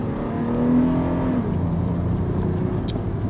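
A re-geared Toyota 4Runner engine revs hard at full throttle going downhill, a loud steady droning whine rising in pitch, then holding over road and wind noise with no talk.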